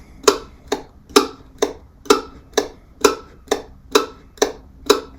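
Muted mandolin strings struck for tick-tock percussion, the left hand damping every string in the middle of the neck; a steady run of about eleven crisp, evenly spaced clicks, close and alone.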